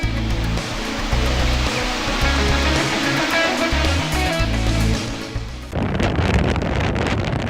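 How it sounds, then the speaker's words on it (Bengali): Cyclone Remal's storm winds roar steadily along the coast, buffeting the microphone in a loud, unbroken rush that eases slightly near the end. "বিভিন্ন জায়গায় ঝড়ো হাওয়া ও থেমে থেমে বৃষ্টি হচ্ছে।"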